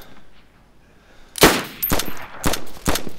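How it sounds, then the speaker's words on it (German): Gunfire in the video game DayZ, a sharp shot after near silence followed by several more loud cracks in quick succession, alone with no talking. "der hat geschossen"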